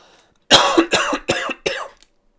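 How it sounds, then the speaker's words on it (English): One person coughs four times in quick succession, each cough a harsh burst close to the microphone, separated by short pauses, with silence before and after. "Sorry, got a cough."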